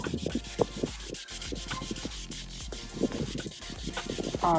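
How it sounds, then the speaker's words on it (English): Steady rhythmic sanding of a cloudy, oxidized plastic headlight lens on a 2004 Honda Accord, repeated rubbing strokes scraping back and forth up close, with no talking. "You just keep sanding and sanding, and eventually that'll go away."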